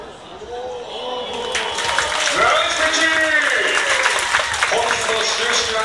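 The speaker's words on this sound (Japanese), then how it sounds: "球場の皆さん、バラミさんに大きな拍手を。" Stadium crowd at a baseball ballpark applauding after a ceremonial first pitch, a broad wash of clapping and cheering that swells and holds, with a public-address voice echoing over it.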